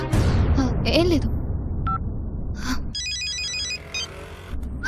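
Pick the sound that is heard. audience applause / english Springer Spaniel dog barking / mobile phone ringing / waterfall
mobile phone ringing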